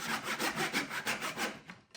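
A small piece of wood is hand sawn on a homemade bench hook, making close, steady back-and-forth rasping strokes at a regular rhythm, about eight strokes in two seconds, with no talking.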